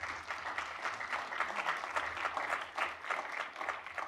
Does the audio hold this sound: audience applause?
yes